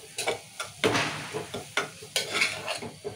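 Chili powder is stirred into a simmering mutton paya curry, with a spoon scraping and clinking against the pot in irregular strokes over a soft sizzle.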